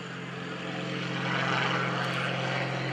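An aerobatic propeller airplane flies a square loop at an airshow, giving a loud, steady engine drone that swells slightly in the middle and holds without a break.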